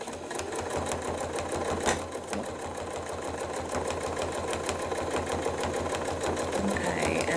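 Close, steady whirring of a sewing machine stitching couching down onto a bag, running continuously with a rapid even rhythm.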